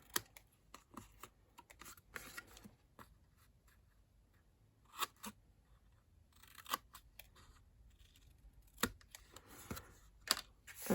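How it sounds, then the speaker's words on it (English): Paper snips cutting around a small papercraft gift box, giving a string of quiet, irregular close snips and paper rustles spread through the clip, with short pauses between clusters of cuts. "So I just snip round all of them."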